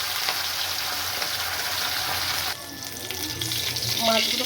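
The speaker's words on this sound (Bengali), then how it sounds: "এটা একটা একটা করে ভেজে নেবো।" Small sarol punti fish fry in hot oil one at a time, a continuous crackling sizzle that shifts in texture midway as another fish is added, with a brief clink near the end.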